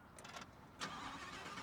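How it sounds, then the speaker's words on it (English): A Lamborghini Huracan Tecnica with its V10 engine starts up, a short crank followed by a steady, fairly quiet idle with the exhaust turned off. "start the engine and hear how it sounds."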